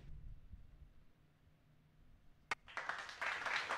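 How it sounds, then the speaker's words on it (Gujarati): A ceremony crowd in a hall breaks into applause after a quiet murmur, starting with one sharp clap and swelling into a dense, steady wash of clapping from many hands. "જોરદાર તાળીઓના ગડગડાટથી સેન્ટર ઓફ એક્સલન્સના આ ઈ ખાતમુહૂર્તમાં આપણે સૌ જોડાઈએ."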